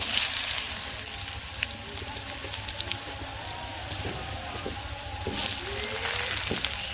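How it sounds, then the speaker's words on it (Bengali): Eggplant fries in oil left from frying fish, with a continuous crackling sizzle and scattered pops, close by and fairly loud, swelling slightly at the start and end. "মাছ ভাজার তেলের মধ্যে বেগুন দিয়ে দিই"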